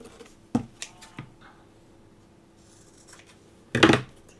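Short wire ends are clipped off during a Christmas decor craft, producing a few faint, sharp snips spaced apart in a quiet room. One louder rustling clatter follows near the end.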